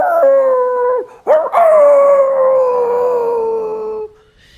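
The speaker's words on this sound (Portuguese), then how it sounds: "o latido de vários cães." Several dogs howl together in a long, sustained chorus with a few barks mixed in, loud and close, ringing for about four seconds before fading, used as a sound effect in a tabletop horror game session.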